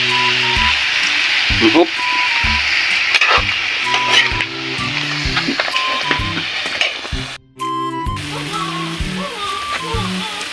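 Food sizzles and crackles steadily as it is sautéed in a hot pan, with scraping stir strokes, a brief dip in the sound partway through, and a voice speaking briefly.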